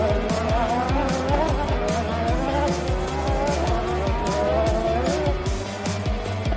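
Racing cars circle close by with engines revving and whining through gear changes, tires squealing and skidding repeatedly in a busy, continuous track din.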